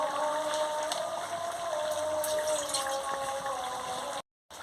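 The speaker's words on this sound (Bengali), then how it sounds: "কেমন সুন্দর ঘর ঘর করে ফুটছে" Pot of curry with paneer, potato and carrot boiling on the stove, giving a steady, continuous bubbling simmer up close with no talk, cutting out briefly near the end.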